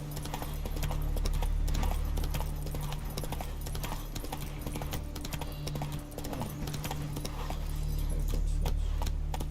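Roach the horse's hooves clip-clop steadily in a Witcher video game, a continuous walking rhythm under a dense game soundscape with a low steady hum.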